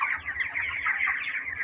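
Chickens cluck and chatter together in a broiler farm of about 1600 birds, a close, continuous murmur of overlapping calls with no talking.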